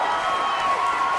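A studio audience cheers and applauds for a bare-knuckle fighting featherweight champion in a brief, dense burst of crowd noise with clapping and whoops.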